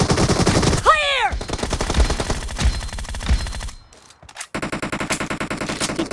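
Loud automatic gunfire in the mobile battle royale game BGMI rattles in fast repeated bursts, with a player's voice briefly heard and a short lull before another steady volley.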